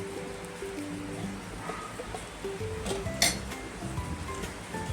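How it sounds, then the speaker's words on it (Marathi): Roasted dried shrimp being rinsed in clean water in a metal sieve, with light clinks and rattles of the sieve against a vessel and soft splashing, close by and fairly steady. "चाळणीमध्ये टाकून ती धुवून घ्यायची स्वच्छ पाण्यात"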